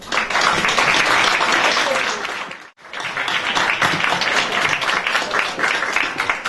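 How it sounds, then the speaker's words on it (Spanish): A conference audience applauding in a dense, steady wash of clapping that briefly fades out, then swells back up and keeps going. "qué fe que tienen para aplaudirme antes que empiece a hablar"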